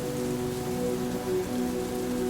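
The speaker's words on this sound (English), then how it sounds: "The rain poured down relentlessly, soaking her to the bone." Steady, dense rain pours down without a break, a loud wash of drops hitting surfaces, with no voices or thunder over it.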